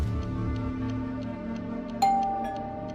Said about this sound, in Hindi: अरे यार फ्रांसिस, कोई किलर तुझे मारने के लिए तेरी डोरबेल बजाएगा?